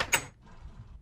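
A wooden door in the Minecraft video game creaks open with a short, bright mechanical clack near the start, followed by a quiet, low background rumble.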